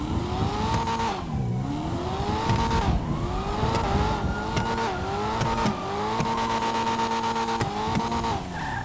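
A Chevrolet Corvette's American engine revs up close and loud, climbing through repeated pitch rises with quick drops between gear changes over about nine seconds, with no voices.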